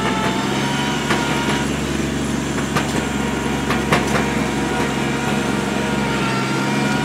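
A 2001 Kubota B7500 diesel compact tractor with belly mower deck, driving in four-wheel drive, holds a steady, loud engine drone throughout with light clicks and rattles, no talk.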